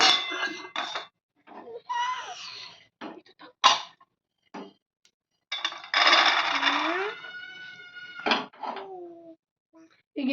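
Roasted peanuts clatter onto a plate in several quick, rattling bursts like small hard pieces dropping, close by, separated by short pauses, with a voice heard speaking between them.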